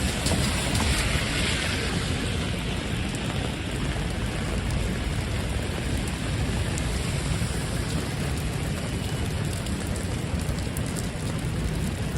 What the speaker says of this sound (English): Looks like the rain's letting up a little bit.